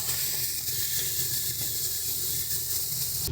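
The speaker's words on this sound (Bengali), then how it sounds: "দিয়ে দিচ্ছি কাঁচা লঙ্কা বাটা আদা বাটা ভালো করে মশলাটাকে কষিয়ে নেব" Green chili paste and ginger paste sizzle in hot oil with cumin seeds, giving a steady close hiss that runs unbroken from start to end, with no talk.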